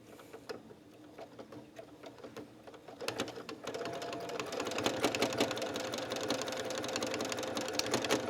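A sewing machine free-motion stitching raw-edge scrappy applique onto a quilt top, its needle chattering rapidly and steadily, starting soft and slow and speeding up louder after a few seconds, with no voices.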